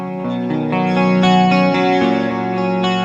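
Electric guitar through a Tonerod amp, bridge pickup being blended in, playing sustained clean chords with a shimmering chorus-like effect, loud and close with no talk.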